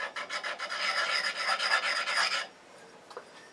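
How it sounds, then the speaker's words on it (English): A diamond or CBN hone rubs the burr off a negative rake woodturning scraper in quick, rhythmic strokes of close, dry rasping that stop abruptly, leaving near silence. "lightly rubbing this with this hone"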